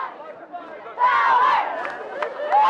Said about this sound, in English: we hear some cheering from the South sidelines